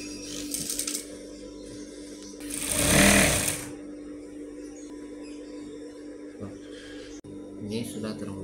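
A sewing machine stitches a sarong-trouser seam from the bottom upward, giving a steady mechanical whir with one louder, denser burst midway and faint talk nearby.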